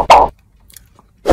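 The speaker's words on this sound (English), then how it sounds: "I know I'm smacking like crazy in this video." Close, loud wet smacks and chewing bursts from eating a cheeseburger and fries, two sharp bursts separated by a quiet gap.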